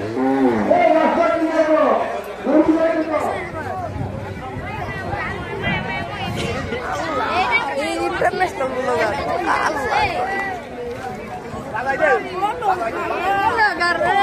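Cattle and buffalo at a busy rural cattle market, low moos rising now and then from a constant babble of people talking nearby.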